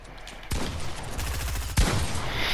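Rapid automatic gunfire in the Fortnite video game, a loud sustained burst of shots followed by a sharper second volley, with no talk over it.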